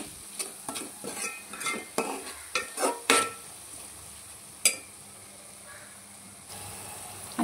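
Fish curry masala frying in a pan over a medium flame, with a spoon stirring and scraping in a run of close, rhythmic strokes over a steady sizzle that carries on quieter toward the end.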